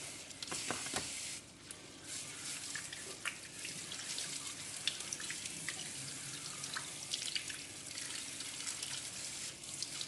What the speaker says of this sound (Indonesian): Kotoran-kotoran di dalamnya juga dicuci sampai bersih banget.